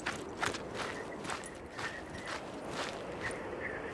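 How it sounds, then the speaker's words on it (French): Running footsteps in Dakar 18, regular thudding strides at moderate pace heading toward a motorcycle, faint over a steady background hiss. "On court vite vers sa moto."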